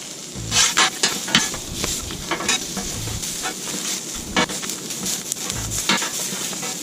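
A metal spatula scrapes and chops at cheesesteak meat sizzling on a Blackstone griddle, with repeated close clacks and scrapes over a constant frying hiss.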